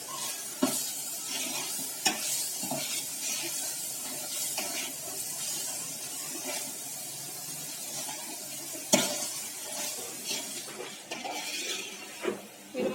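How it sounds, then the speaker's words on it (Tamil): Green chilies, ginger-garlic, mint and coriander sizzle in a hot pan while being stirred and sautéed, a steady close frying hiss broken by scraping spatula strokes and a few sharper clinks, with no talk. "புதினா கொத்தமல்லி அதையும் சேர்த்து நல்லா வதக்கிடலாம்."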